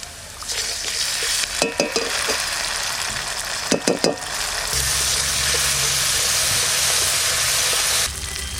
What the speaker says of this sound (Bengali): এবার লঙ্কা বাটাটা দিয়ে দেবো।